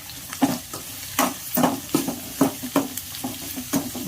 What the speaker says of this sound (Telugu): ఎర్రగడ్డ ముక్కలంతా కొంచెం దూరగా వేగనిచ్చేద్దాం